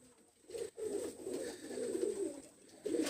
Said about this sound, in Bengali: আরও একটা কবুতর আমি দেখাচ্ছি